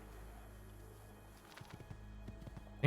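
Horse hooves clopping in Assassin's Creed 2, faint and irregular at first, then a few louder hoof strikes toward the end over a quiet game background.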